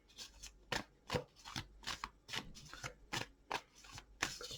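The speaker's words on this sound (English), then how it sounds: "Shuffle, shuffle, shuffle." Tarot cards shuffled by hand in a quiet room, a run of about ten crisp riffling bursts in uneven rhythm, close and fairly soft, with no talk over them.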